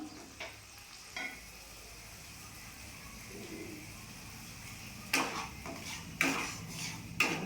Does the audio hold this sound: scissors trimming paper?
no